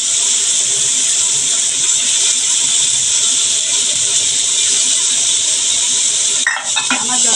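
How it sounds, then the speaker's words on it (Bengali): Onions sizzle steadily in hot oil with bay leaves, cardamom, cinnamon and cloves for a fish curry, giving a continuous close hiss with a brief clatter of stirring near the end. "আমার যতক্ষণ পেঁয়াজগুলো ব্রাউন না হবে ততক্ষণ কিন্তু আমার ভাজতে হবে"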